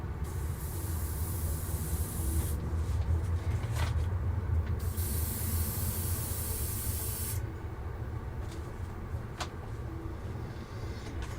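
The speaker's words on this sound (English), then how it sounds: "I can hear it spraying, I just can't see it." Steady hissing airbrush spraying paint runs continuously, with a brighter high-pitched burst near the start and another in the later half, over a constant low rumble.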